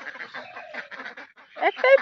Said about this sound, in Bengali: এই হাঁসটা এখনো এক পায়ে দাঁড়িয়ে আছে, দেখো